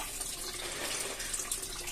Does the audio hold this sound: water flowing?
yes